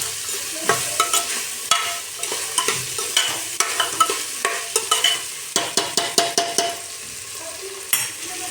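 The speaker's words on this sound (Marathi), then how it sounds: "ह्याला पण छान मिक्स करून घेऊया." Khichdi of rice, dal, vegetables and coriander gets stirred in a pan, with a steady run of close scraping and clinking spoon strokes over a soft sizzle throughout.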